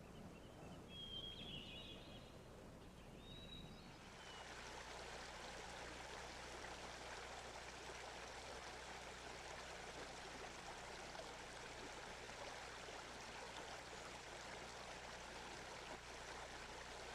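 A quiet mountain stream flows in a steady, soft, continuous wash that sets in after a few seconds of faint ambience, with no voices.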